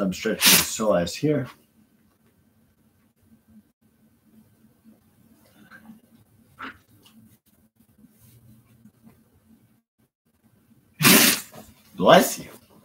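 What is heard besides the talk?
sneeze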